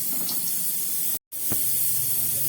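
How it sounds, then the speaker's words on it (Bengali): Two or three pieces of capsicum fry in hot oil left over from frying eggs, giving a loud, steady hiss that cuts out for a moment and then resumes. "এই ডিম ভাজার তেলের মধ্যে আমি 2-3 টুকরো ক্যাপসিকাম একটু ভেজে নিচ্ছি।"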